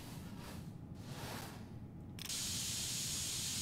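Spray paint hisses onto a PC case in the video game PC Building Simulator 2, a soft hiss that turns into a steady, brighter spray partway through, alone and fairly quiet.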